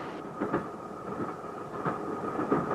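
A passenger train running on rails, a steady rumbling roll with repeated rhythmic clicks from the wheels, moderately loud and continuous throughout, with no speech.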